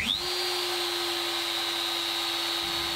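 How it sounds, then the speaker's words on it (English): An Inventables X-Carve CNC spindle switches on and spins up to a steady, loud, high-pitched whine that holds evenly for about three seconds, close by, with no talking. "fit the dust shoe, spindle on,"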